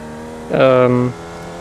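A race car engine in a sim racing game blips high on an early downshift, a short loud harmonic roar rising and then dropping away after about half a second, with a voice nearby.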